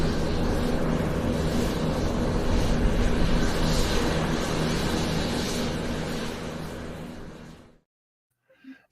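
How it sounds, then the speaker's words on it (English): An airplane coming in to land in front of a house gives a steady, loud broadband roar that holds for several seconds, then fades and cuts out abruptly, leaving near silence. "So this is a picture of an airplane landing in front of my house."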